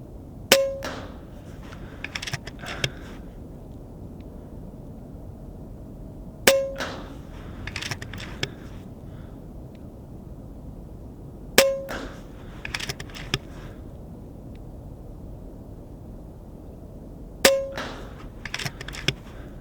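Airgun pellets striking a steel target at a 1-inch square, four sharp metallic clangs spaced several seconds apart, each followed by fainter ringing and small clicks in between.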